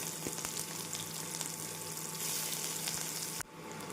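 Cauliflower, already boiled, sizzles in a little hot oil over a medium flame while being stirred for a masala dish; a steady close crackle runs throughout with faint clinks, dropping off abruptly near the end.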